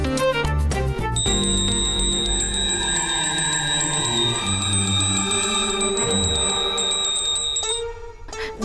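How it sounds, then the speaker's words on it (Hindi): A hand bell rings over and over in a quick, bright, steady jangle, loud and close, then breaks off near the end. "माता जी भी घंटी बजा बजा के मना कर रही हैं"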